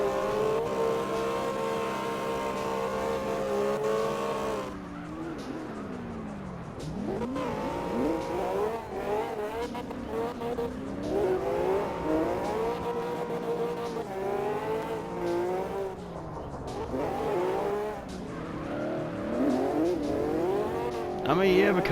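A drift car in CarX Drift Racing Online, a Kitsune or Hummel build, revs hard with rising and falling engine whines and tire squeal through slides, while someone talks over the game audio.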